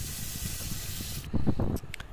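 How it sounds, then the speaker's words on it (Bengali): Prawns frying in oil give a loud, hissing sizzle that cuts off abruptly, followed by a few clunks and knocks of a utensil against the pan. "ভাজা হয়ে গেছে দেখো, লাল লাল করে ভাজা হয়ে গেছে।"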